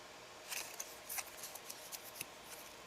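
Scissors snipping through a strip of black paper: a handful of quick, crisp cuts close by, spaced irregularly over soft room noise, with no voices.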